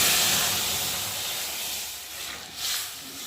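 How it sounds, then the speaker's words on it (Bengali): Boiled dal hitting hot fried tempering in a pan gives a loud, steady steam-hiss sizzle that eases off slightly, with a brief renewed surge near the end; no one speaks. "আর এখন আমি ডালটা দিয়ে ভালো করে ফুটিয়ে নেব।"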